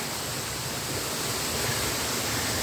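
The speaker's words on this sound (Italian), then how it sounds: "Qui siamo alla cascata del Dardagna" The Dardagna waterfall near Pistoia in the Italian mountains roars as a dense, steady wash of rushing water, loud and close, with no talking.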